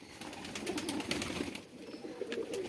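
Pigeons on a fancy pigeon farm coo softly and repeatedly in hot weather, several low throaty calls overlapping at a moderate distance, with no talking.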